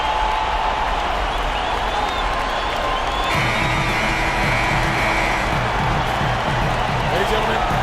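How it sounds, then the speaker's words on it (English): Arena crowd in NBA 2K19 at an Oklahoma City Thunder versus Portland Trail Blazers playoff game, a steady roar of cheering and noise throughout, loud and continuous, with an announcer talking over it. "this Oklahoma City crowd wants some love from their Thunder"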